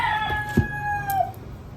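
A rooster crows in the background with a fairly clear drawn-out call that tails off, followed by a brief thump and faint noise, with no voices heard.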